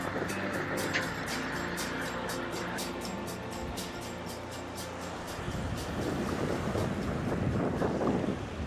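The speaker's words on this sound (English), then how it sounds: "Wind is picking up a bit." Steady wind gusting across open water near a small boat off Queenscliff, with broadband roar and microphone buffeting throughout, rising slightly toward the end alongside lapping water.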